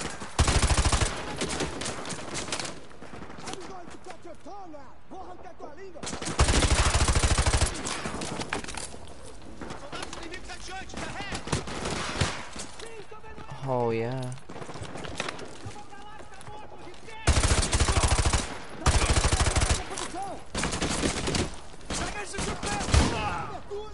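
Bursts of automatic gunfire from the Modern Warfare 2 Remastered campaign come in loud, rapid volleys with several long sustained strings and scattered shots, and a player talks between them.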